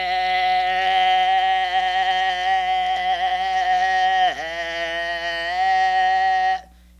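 Human voice imitating a goat bleat as a singing exercise, a sustained nasal, wavering tone held for several seconds that briefly dips in pitch midway before resuming and cutting off.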